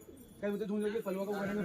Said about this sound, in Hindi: कबूतर इधर आ